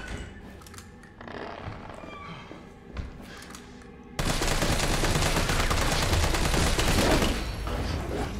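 Gunfire in the video game Resident Evil 3: a dense, loud burst of rapid automatic shots that starts abruptly midway and keeps going, preceded by quieter scattered game sounds and thumps.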